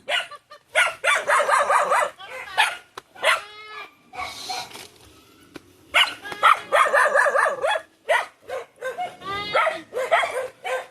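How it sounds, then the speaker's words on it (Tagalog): Several dogs barking repeatedly in overlapping bursts in the Philippines, close and loud, with a brief pause midway before the barking resumes. "Daming aso."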